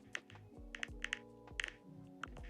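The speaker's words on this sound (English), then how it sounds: "Let's try to type it in the app." Quick, close keyboard typing as a Slovak sentence is entered into an app, with a burst of light, uneven key clicks and taps and no one speaking.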